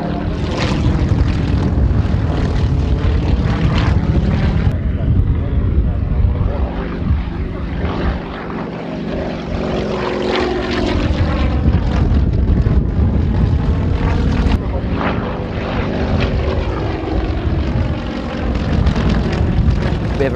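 A propeller aeroplane engine runs loud and steady throughout, a strong aerobatic trainer airframe built to plus 8 and minus 5 g, with a continuous broadband drone that dips slightly midway before surging back.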